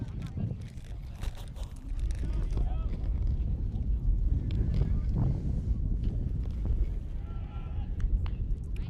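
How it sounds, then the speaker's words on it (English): Gusty wind at a high school baseball game buffets the microphone in a constant low rumble, with a voice talking faintly underneath. "It's getting really windy over here."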